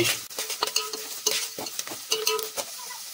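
Sliced onions with rock salt sizzling in a pan while being stirred, the spatula scraping in quick irregular strokes over a steady close fry, no voices.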